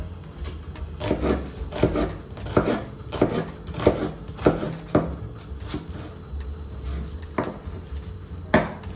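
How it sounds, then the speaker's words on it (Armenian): A knife chops an onion finely on a board, a series of crisp, fairly regular taps and scraping strokes close by, about one every half second, with no voices. "Այդ ընթացքում մանր պետք է կտրատենք սոխը,"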